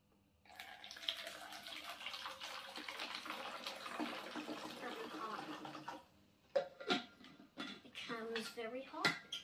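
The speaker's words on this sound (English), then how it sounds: "you put this funnel here, and you put some hot water into it" Hot water pours from about 0.5 to 6 seconds in a steady, fairly loud rush, filling a bottle through a funnel at home during a simple science experiment. A few sharp knocks and brief talk follow.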